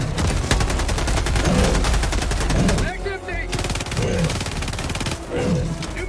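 Sustained machine-gun fire in a video game, rapid loud rattling bursts close by with brief pauses, layered with game noise.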